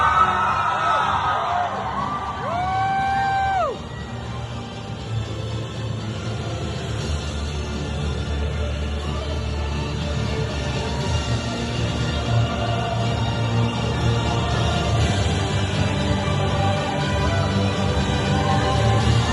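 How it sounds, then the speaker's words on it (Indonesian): A crowd at a film premiere for Sukma at GSC Mid Valley cinema screams and cheers in a sustained, loud roar, with a few rising whistle-like shrieks early on. "kita jerit berkuat untuk Luna Maya"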